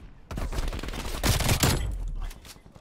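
Loud rapid automatic gunfire from a weapon in Call of Duty: Cold War, a dense continuous burst lasting about two seconds before tapering off.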